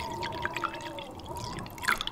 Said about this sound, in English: pour into bottle